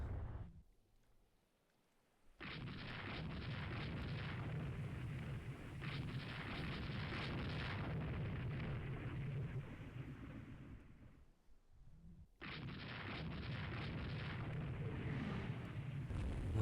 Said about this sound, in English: Okay, long range fire on both sides here.